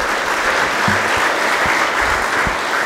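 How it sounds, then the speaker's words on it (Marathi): Sustained audience applause fills the hall at a Marathi talk by Dr. Abhijit Sonawane, dense and steady clapping throughout with a few low thumps and no speech. "सो एकदा यांच्यासाठी टाळ्या वाजवाल"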